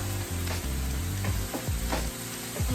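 Plant-based taco filling cooks down in a pan with a little water, a steady moderate sizzle broken by several utensil scrapes and stirs at irregular intervals.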